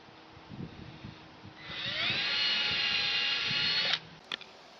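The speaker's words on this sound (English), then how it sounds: "I've marked my hole, now it's time to drill." A power drill whines steadily for about two seconds as it bores into a pressure-treated wooden 4x4 post, then stops abruptly, followed by a couple of small clicks.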